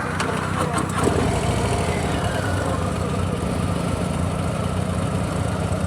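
Several adventure motorbike engines idle and rumble nearby in a continuous low drone, steady and fairly loud, with voices of a crowd mixed in.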